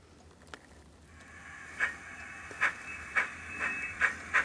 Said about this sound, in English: I'm going to operate a locomotive here on the layout